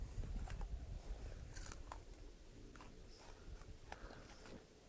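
Roughly 60-pound pigs eat biochar scattered on the ground, giving irregular close crunching and chewing bites through the clip over a low outdoor rumble.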